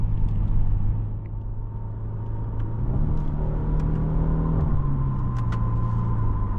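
A 2017 Genesis G80 with its 3.8-litre engine hums steadily while driving, a low, continuous drone that swells slightly as the revs climb midway and then eases back, with no talking over it.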